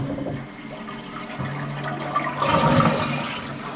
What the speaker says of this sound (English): This is the flush.